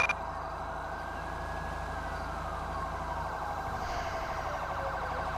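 Ambulance siren in the video game GTA V, wailing loudly and continuously with sweeping rising and falling tones and no talk over it.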